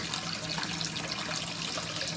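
Water runs steadily from a Kohler bathroom faucet that had been plugged, with hot and cold flowing together; a close, even hiss and splash into the sink continues without a break and with no talking.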